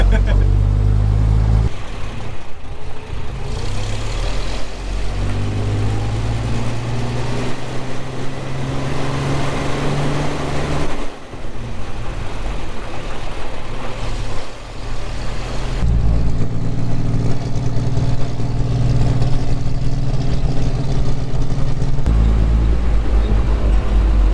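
A Mack B-21 truck engine drones steadily while driving, a loud continuous low rumble with shifting tones, heard under people talking inside the cab.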